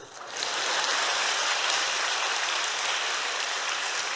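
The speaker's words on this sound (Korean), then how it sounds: "박수." Dense applause from a church audience at a testimony gathering rises quickly and holds as a steady, fairly soft wash of many clapping hands, with no voices over it.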